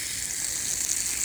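An AUTOMAN garden hose nozzle sprays on its full setting, a steady close hiss of water that holds evenly for a moment with no talk.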